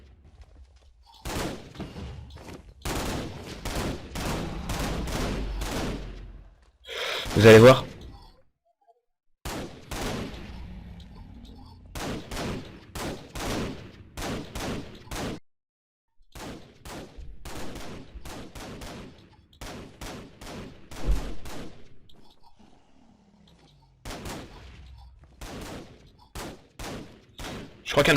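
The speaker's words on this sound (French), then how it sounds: "Voilà, la meilleure mitraillette du launcher, donc." Submachine gun in Minecraft's NationsGlory server firing repeated rapid bursts of sharp shots across the stretch, with short gaps between volleys and a brief spoken phrase in French partway through.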